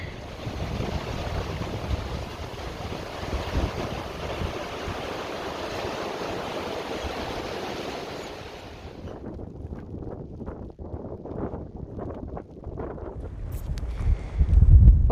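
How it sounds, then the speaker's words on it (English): Strong wind roars through a mountain valley on the Kungsleden trail in Sweden, buffeting the microphone in loud, continuous gusts before easing into softer, rougher bursts near the end. "It is so windy."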